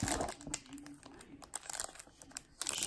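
Cellophane wrapping on Donruss Optic basketball card packs crinkles and crackles up close in bursts of irregular rustling as the packs are torn open.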